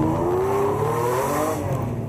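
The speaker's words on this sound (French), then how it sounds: "sa Ferrari Testarossa ne sait pas être discrète" A Ferrari Testarossa creeps at walking pace along campsite lanes, its engine a loud, steady low rumble that rises gently in pitch and holds close throughout.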